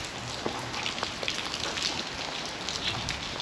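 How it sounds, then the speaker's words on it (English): Rain falling outdoors while walking through the streets of a favela, a steady dense patter of drops striking surfaces nearby, with scattered louder splashes and no talk. "My camera might die if I keep walking in the rain."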